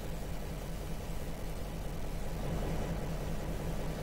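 GP15 diesel locomotive engine rumbling steadily at a low, even drone, moderately distant and constant throughout, with no voices.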